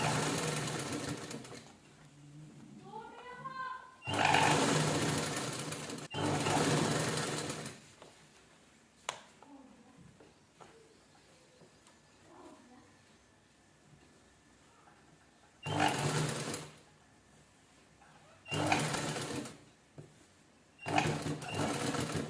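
A sewing machine stitches the sleeve of a velvet blouse in several separate loud bursts of rapid whirring, each a second or two long, with quiet handling noises in the gaps between runs.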